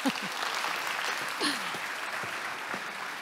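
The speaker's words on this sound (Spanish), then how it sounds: "Ahora sí aplaudimos." An audience at a technology conference applauds steadily as a software development head is welcomed on stage, with some voices and cheering mixed into the clapping.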